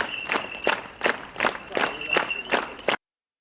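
Fellow artists applauding at a farewell to actor Viacheslav Sudyma, slow rhythmic group clapping in about eight even waves, moderately close, with faint murmuring in the background, ending abruptly.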